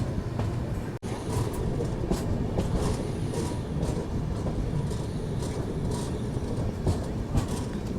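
Rani Chennamma Express of Indian Railways rolling near the Dharwad outskirts, heard from inside a First AC coupe coach: a loud, steady rumble and rattle of wheels on track that runs without a break, with one brief dip early on.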